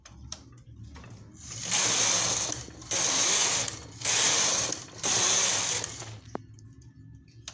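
Punch card knitting machine knitting a skirt: the carriage sweeps across the bed in four loud, even, rattling passes, each about a second long with short pauses between, close up and with no talk.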